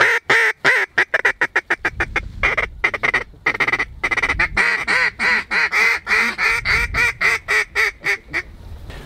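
Ducks quack loudly in rapid, repeated calls during a duck hunt, with a dense run of close, rhythmic quacks and honks that continues throughout.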